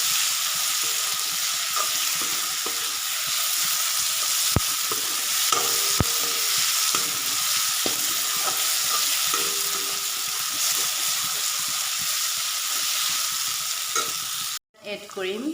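Meat sizzles and fries over a low flame for a long stretch, a steady crackling hiss with occasional sharp clinks of a spoon stirring in the pot, cut off abruptly at the end.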